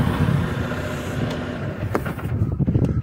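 A truck engine idles with a steady low rumble, loud and close under the hood, with a few faint clicks and knocks near the end.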